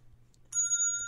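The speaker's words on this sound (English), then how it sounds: "As I ring my bell." A single bright bell tone, played from a phone app, rings out once and sustains with a clear ringing tail, fairly close and alone.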